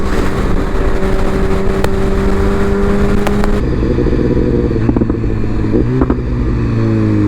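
Motorcycle ride on the way to a supercar meet, with a steady engine drone and rushing wind. The engine tone shifts partway through as the bike changes speed, loud and close throughout.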